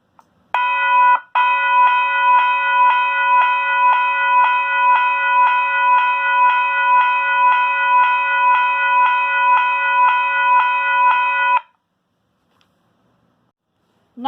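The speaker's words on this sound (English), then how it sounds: "Next, we have my Western Cullen Hayes electronic railroad crossing bell." A Western Cullen Hayes electronic railroad crossing bell, a circuit board and speaker with no mechanical parts, rings in a steady fast electronic ding repeated evenly for about ten seconds, loud and clear, then stops abruptly.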